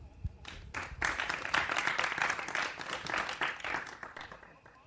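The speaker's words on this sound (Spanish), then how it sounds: "Un aplauso para ellos, por favor." An audience applauds the guests of a history podcast's live show: dense, energetic clapping from a crowd swells in after a moment, holds steadily, then begins to fade.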